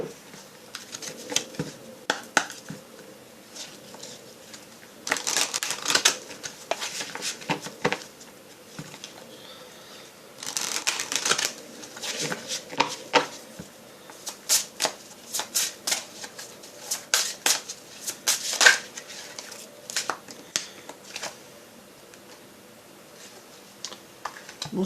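Oracle cards shuffled by hand in bursts of crisp riffling and flicking, close and moderately loud, separated by short quiet gaps and soft taps over about twenty-five seconds.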